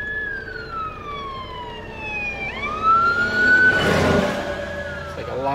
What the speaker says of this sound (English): Fire trucks, police cars, everybody's rushing over to the fire